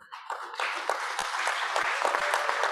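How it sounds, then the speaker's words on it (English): An audience at a ceremony opening a kick-off meeting breaks into applause, a dense wash of clapping rising quickly and holding steady at moderate distance. "So I would like you to give applause to all of them."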